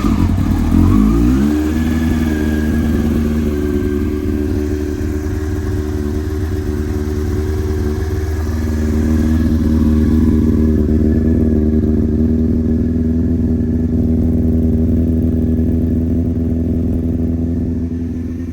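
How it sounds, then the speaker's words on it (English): A 2000 Yamaha R1 sport motorcycle with an aftermarket sprocket and chain is cold-started on choke. It catches after a brief cranking burst and settles into a loud, steady, rumbling idle, with no talking. "I'm gonna do a cold start quick, and then I'll walk around, show you some of the aftermarket parts, and then I'll give you some revs."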